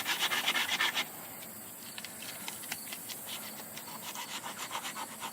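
A rag soaked in Coke scrubs rust off chrome: faint, close rubbing and scratching strokes, a denser burst at first, then lighter rhythmic passes.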